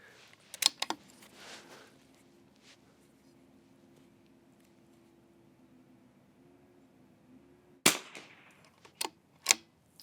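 Sharp gunshots crack at an outdoor shooting range during chronograph testing with a Garmin Xero C1 Pro, a pair of close reports early on, then a quiet stretch with a low hum, followed by several more spaced shots.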